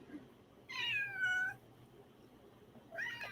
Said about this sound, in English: The cat wants to get in on the stream.